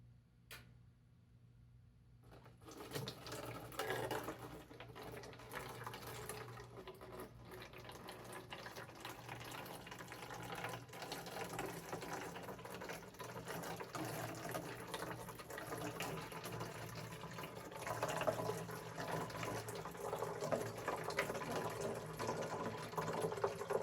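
C-41 color film developer powder is poured into water for a one-liter mix, giving a steady, close trickling pour that swells gradually over a long stretch.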